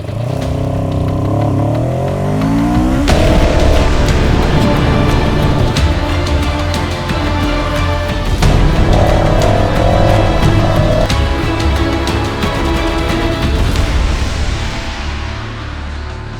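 A CFMOTO 700 CL-X Sport motorcycle runs loud and close, its engine revving up and down through several throttle rises and gear changes with a mechanical clatter, no speech.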